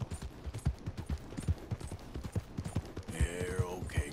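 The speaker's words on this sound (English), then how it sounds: "Gallop. These horses don't go that fast, but yeah, good boy." Horse hooves pound in a quick, steady galloping rhythm in the Red Dead Redemption 2 video game, fairly close and loud, with a brief whinny-like cry near the end.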